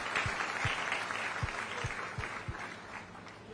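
Audience applause at a government ceremony distributing unemployment allowance installments, a steady wash of clapping throughout with a few sharper nearby claps standing out.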